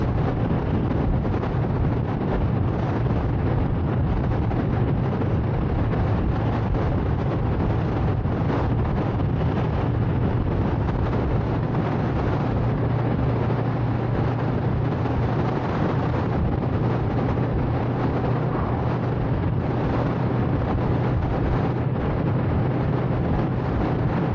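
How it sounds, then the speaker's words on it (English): Loud, relentless strong wind roaring and buffeting against the microphone during a ride, a dense rumbling rush with no pauses or voices, for the whole stretch. "it's too windy"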